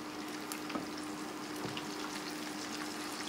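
Fish pieces sizzle steadily in hot oil in a pan, a soft continuous crackle with faint stirring and scraping as the pieces are turned over.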